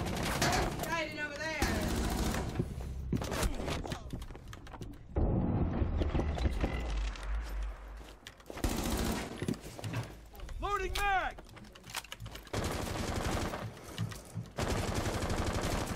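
Video game gunfire, dense bursts of loud shots and machine-gun fire with frequent gaps, mixed with excited talking throughout.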